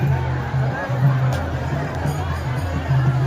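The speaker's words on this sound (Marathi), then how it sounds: "इतकी गर्दी आहे इथं तुफान गर्दी" Crowd of devotees at a busy Hindu temple, a thick babble of many voices close by, with one person speaking over the hubbub.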